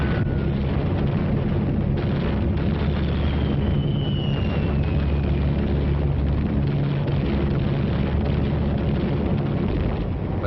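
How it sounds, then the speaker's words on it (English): Bombs exploding as they fall on Tokyo, heard as a continuous loud, rumbling roar of blasts and heavy engine drone with no clear separation between impacts. "Finally, they struck at the heart of the Japanese homeland and dropped their bombs on Tokyo."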